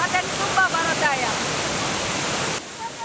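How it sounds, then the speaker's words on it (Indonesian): Lokowine waterfall in Wejewa Timur, Southwest Sumba, gives off a steady, dense rushing roar close by. A few faint high chirps sit over it at first, and the level drops somewhat near the end. "ke air terjun Lokowine, Kecamatan Wejewa Timur, Kabupaten Sumba Barat Daya"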